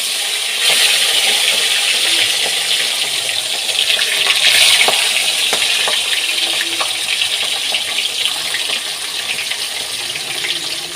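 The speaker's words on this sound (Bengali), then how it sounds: "এবার মাছগুলো চলুন ভেজে নেব।" Snakehead fish pieces frying in mustard oil make a loud, continuous close-up sizzle and crackle that holds steady for several seconds, with no talking.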